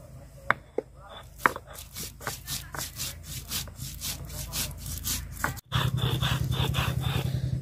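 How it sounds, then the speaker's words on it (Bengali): Cumin being ground by hand on a grinding stone, first a few sharp taps and then steady back-and-forth rubbing strokes that turn into a fast, loud, even grinding rhythm, close up. "তো আগে জিরা বাটা নিব আমি।"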